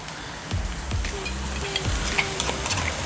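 Fresh chopped garlic and chilies hit a hot pan for dinuguan, setting off a steady close sizzle with a few stirring scrapes and clatters, alone without talk.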